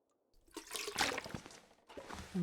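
In The Long Dark video game, water is scooped and collected as a short, faint burst of splashing and trickling liquid that pauses briefly and then resumes.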